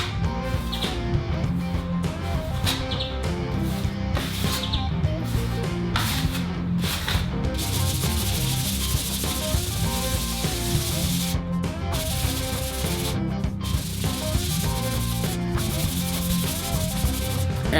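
Plaster render skim coat on a brick wall is sanded by hand, a continuous close scratchy rubbing with rhythmic strokes over nearly eighteen seconds, no voices.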